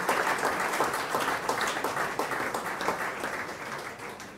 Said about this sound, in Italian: Un applauso che mi sembra del tutto doveroso.